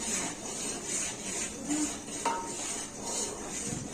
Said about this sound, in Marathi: मी आता हलवून घेतो